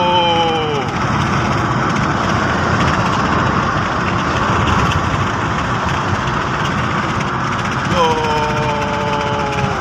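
A car drives on the Nairobi Expressway in Kenya with a steady, continuous engine and road drone from inside the vehicle, while faint rising tones appear at the start and near the end.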